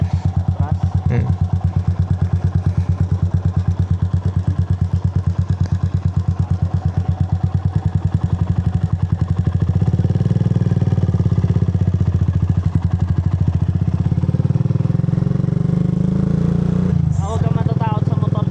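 A motorcycle engine runs close by, first idling with a rapid rhythmic putter, then revving up into a louder, steadier drone.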